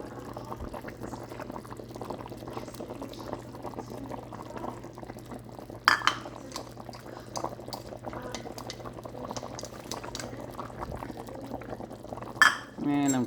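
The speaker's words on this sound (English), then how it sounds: "so I'm gonna add my green peppers now." A pot of Jamaican-style oxtails and beans bubbles steadily at a boil as green peppers are tipped in, with a brief clatter near six seconds and another knock near the end, all under a continuous simmering hiss.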